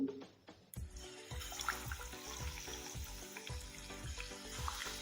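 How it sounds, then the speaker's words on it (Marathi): Batter-dipped vada dropped into hot oil for Nagar-style kadhi vada, a bright sizzle and bubbling that starts abruptly and keeps crackling steadily, close and fairly quiet. "आपण पिठात बुडून घेतलेला वडा तेलामध्ये सोडू"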